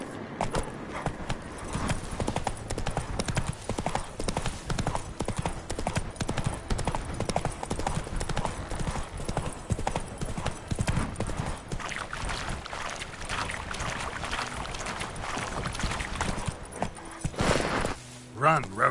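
Horse Roach galloping in The Witcher video game, a fast continuous drumming of hooves mixed with dense ambient game sound and music for most of the stretch, thinning out near the end.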